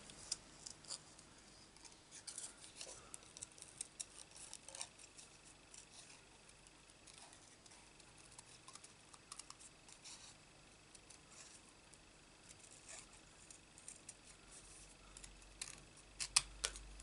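Scissors snip around a paper happy birthday sentiment for a stamped card, a faint, quiet series of small close cuts and ticks running throughout with no voices.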